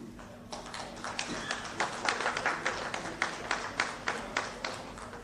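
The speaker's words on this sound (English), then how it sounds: "A huge round of applause, please." Audience at a real estate launch event with Anil Kapoor gives a round of applause, heard as moderately quiet, steady clapping with distinct individual claps, fairly close and without talk.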